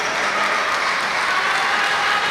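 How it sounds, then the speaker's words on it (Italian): Basketball crowd applauding a substitution in a Posaclima Ponzano vs Basket Club Bolzano game, with steady, dense clapping filling the arena at a constant loud level and no pause. "arriva il meritato cambio per l'applauso"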